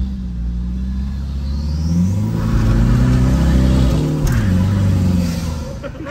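A turbocharged ambulance van at a drag race in Thailand accelerating hard, its engine rising in pitch through several gear changes, loud and close, with a brief whistle in the middle of the run.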